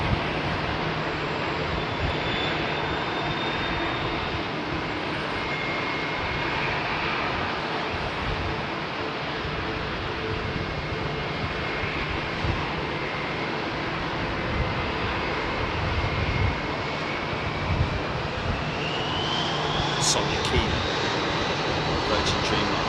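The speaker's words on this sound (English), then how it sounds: "Virgin Dreamliner to New York." A Virgin Dreamliner jet roars at London Heathrow Airport as smoke from local fires drifts over, a steady broad engine rumble that swells slightly near the end, with people talking underneath.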